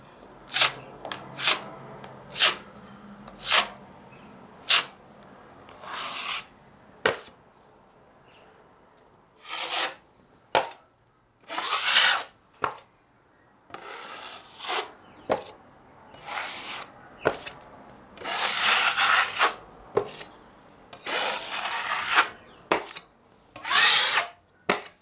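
A drywall knife skims joint compound across a wall in a series of sharp, scraping strokes, some short and some drawn out, with quiet pauses between them.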